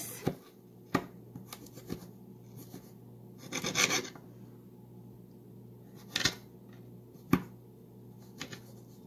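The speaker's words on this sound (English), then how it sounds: "Take the carrots, and to cut them into julienne cuts, cut each of them into thin layers like this." A knife cuts carrots into thin julienne layers on a board, with a few sharp, separate chops and scraping strokes spaced irregularly against quiet background hum.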